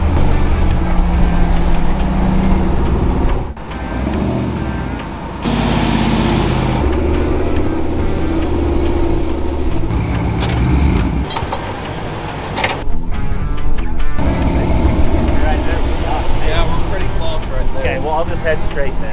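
Vehicles straining to tow a heavy rig out of sand, a loud continuous engine roar rising and falling with revving over nearly twenty seconds, with voices heard over it.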